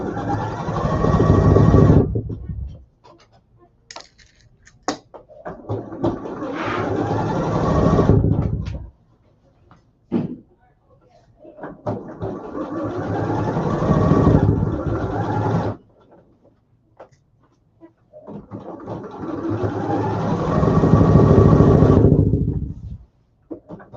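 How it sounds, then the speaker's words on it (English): A sewing machine stitches a dress neckline in four long, loud, close whirring runs separated by short pauses filled with fabric handling. "we are going to sew our neckline that we just finished pinning"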